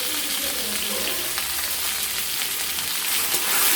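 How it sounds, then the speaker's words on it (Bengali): Vegetable stalks coated with turmeric fry in a pan while being stirred, producing a loud, dense, continuous sizzle with faint scraping throughout. "দিয়ে এটাকে কিছুক্ষণ আমরা এটাকে নাড়াচাড়া করে ভেজে নেব।"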